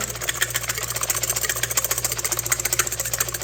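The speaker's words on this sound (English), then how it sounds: "And you just start whisking." Cream whipped by hand with a whisk in a frosty, chilled bowl, giving a steady, rapid, close-up scraping and clicking rhythm that carries on without pause.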